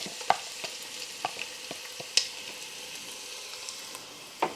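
Onion frying in olive oil over medium heat for butter bean soup, a soft, steady sizzle with occasional light clicks of a utensil against the pot.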